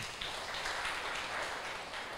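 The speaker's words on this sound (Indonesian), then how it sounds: "Beri tepuk tangan buat Tuhan." Church congregation at a Sunday worship service applauds in a steady, dense wash of clapping that stays even and moderately distant throughout, with no voices standing out.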